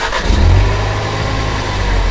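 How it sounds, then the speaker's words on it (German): A Ford Focus ST MK3 engine starts up and revs, a loud close mechanical roar that swells early and then settles into a steady throaty run. "wenn ich jetzt das Auto starten würde und Gas geben würde"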